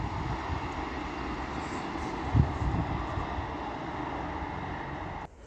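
Class 150 passenger trains, units 150-144 and 150-143, passing through Castleton station: a steady rumble and wheel noise holds throughout, with a brief louder knock midway before the sound drops off abruptly near the end.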